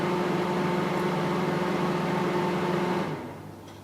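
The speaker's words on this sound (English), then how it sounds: "My microwave doesn't know when to stop." A kitchen microwave oven running with a steady mechanical hum and drone, loud and close, that cuts off near the end and leaves quiet room tone.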